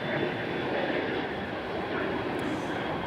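An American Airlines airliner at Raleigh-Durham Airport rumbles as a faint, steady engine drone, continuous and distant, with no voices.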